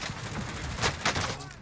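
Rapid gunfire bursts in the Warzone video game, including shotgun blasts, crackle loudly over a dense game soundscape, with two sharp louder shots standing out near the middle.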